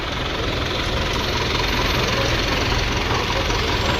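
A tractor engine idles nearby, a dense, steady low rumble with a rough knocking texture that holds constant throughout.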